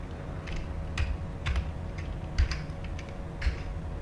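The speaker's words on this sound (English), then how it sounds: "If I can get my fingers on the right part of the keyboard." Typing on a computer keyboard, scattered irregular key clicks and a few louder taps, near and fairly quiet over a low steady hum.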